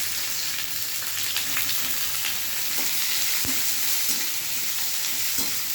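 Onions frying in a pan after dried red chillies and cumin, a loud, dense, continuous sizzle with faint occasional stirring taps underneath, close up and without talk.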